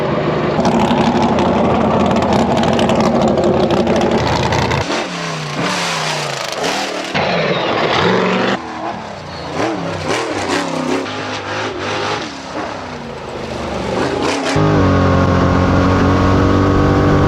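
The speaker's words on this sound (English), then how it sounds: "Everybody's getting their engines warm, getting ready here to start." Ultra4 off-road race cars at a Lake Havasu event warm up with loud, close engines, idling steadily and then revving hard in repeated surges before settling back to a rumbling idle.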